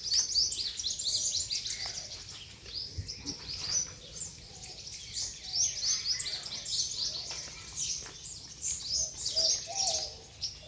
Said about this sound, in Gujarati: સંભળાય પક્ષીઓના અવાજ?